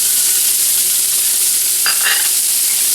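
Steak sizzles loudly in a hot pan with olive oil, a bright, steady, close-up hiss that continues without a break, with a brief utensil scrape partway through.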